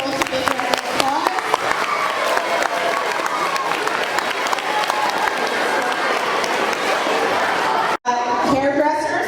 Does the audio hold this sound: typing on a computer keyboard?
no